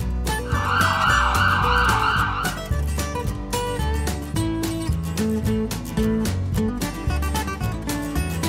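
A wailing electronic toy ambulance siren, loud and close, sweeping up and down over a busy backdrop of music-like tones and clatter for the first few seconds.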